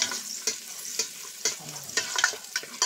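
Garlic and onion sautéing in a pan before chicken goes in, a thin steady sizzle punctuated by regular sharp scrapes of a spatula stirring about twice a second, close up and without talk.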